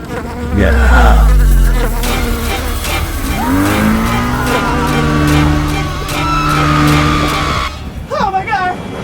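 A loud, close bee buzzing drone wavers and sweeps up and down in pitch, like an insect circling nearby, with engine-like roar underneath.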